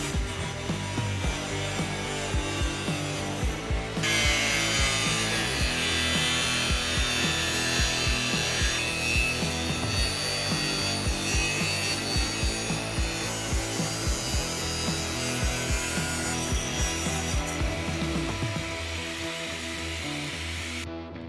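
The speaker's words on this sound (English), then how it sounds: "I'm just using a 5-inch cutoff wheel to make the cut." A 5-inch cutoff wheel slices through a plastic running board on a 2019-2021 Lexus LX570, a steady loud grinding whine with a gritty rasp that holds for the whole stretch, with no talking.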